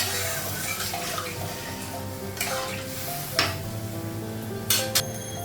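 Water pours into a cooking pan to make the gravy for a curry, a steady, splashy rush in a home kitchen with a few sharp clinks and knocks, and no one speaking.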